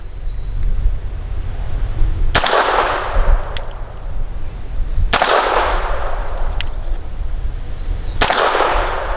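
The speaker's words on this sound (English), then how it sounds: "So for my 5 shots at about 7 yards" Grand Power K22 X Trim .22 pistol fired at about 7 yards outdoors: three sharp, loud cracks spaced a few seconds apart, each with a ringing metallic tail, over steady background noise.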